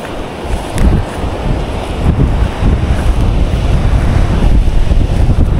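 Big ocean waves crash along the coast at Barili while strong wind buffets the microphone, producing a loud, continuous roar with heavy low rumble and surging swells.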